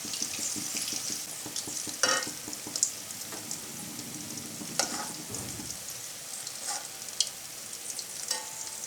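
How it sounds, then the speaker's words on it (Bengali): Rice-flour pitha dumplings fry in a pan of hot oil with a constant close sizzle and hiss, punctuated by occasional spatula scrapes and light clinks. "আমি আরও একটু লাল করে ভেজে নেব"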